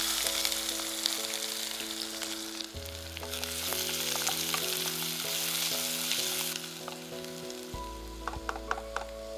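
Chopped onions fry in a pan with a loud continuous sizzle and crackle, occasional stirring, close by and without talk.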